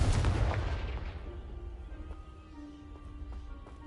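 A Confringo fire spell blasts in Hogwarts Legacy, a single loud booming explosion at the start that rumbles and fades over a few seconds with faint lingering game tones.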